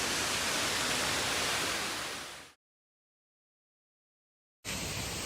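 Rushing water at Namtok Pisat, a Thai waterfall, a loud, dense, continuous roar that fades out, then drops to silence for about two seconds before the roar resumes abruptly.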